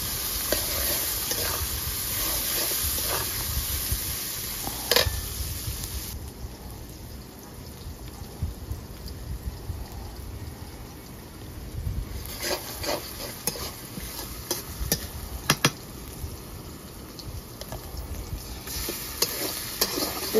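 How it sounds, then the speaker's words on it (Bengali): Onions frying in a pan for catla fish bhuna, a steady sizzle with repeated spatula scrapes and clicks over twenty seconds, louder at first and easing slightly midway, no talking. "এই যে মাছটা ভাজি করে রাখেন, পেঁয়াজটা ভাজি করে নিচ্ছে।"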